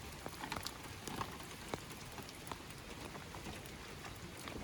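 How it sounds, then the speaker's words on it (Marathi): Heavy rain patters down on a surface at a farmhouse in Kolad, a dense, even hiss dotted with scattered individual drops, fairly soft and continuous throughout. "पावसाला जोरात सुरुवात झालेली आहे."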